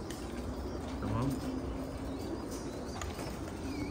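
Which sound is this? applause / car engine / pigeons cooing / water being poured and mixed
pigeons cooing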